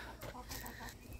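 Chickens cluck in a short burst of several quick, quiet clucks at close range, with no talking over them.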